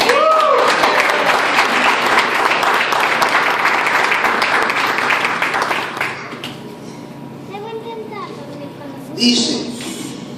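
A church congregation applauds during a Spanish-language sermon, dense steady clapping for about six seconds, then fading into scattered claps, murmuring and children's voices as a preacher resumes speaking.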